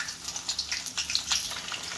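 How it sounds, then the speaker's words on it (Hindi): Eggplants go one by one into hot oil in a pan and set off a steady, crackling sizzle with small bright pops, moderately loud and close. "तो तेल यहाँ पर अच्छे तरीके से गर्म हो चुका है, तब मैं इसमें एक एक करके बैंगनों को डालती जाऊंगी इस तरीके से"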